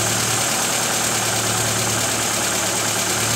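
A rebuilt 1.9-litre Lada Niva engine idles smoothly and steadily with a continuous low hum and no knocking, fairly close and alone.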